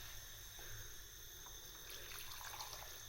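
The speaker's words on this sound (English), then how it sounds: "I'm just going to add a little bit of water." Water is poured into a pan of Japanese quince (Chaenomeles) for jam, giving a faint, continuous trickle and splash close by over a low background hum.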